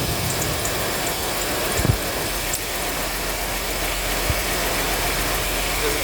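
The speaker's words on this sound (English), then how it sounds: "As you can see, it's running a little bit rougher." A 1999 Chevrolet Blazer engine idles rough with an intermittent misfire on cylinder 3, a steady close mechanical churn with small uneven knocks breaking through.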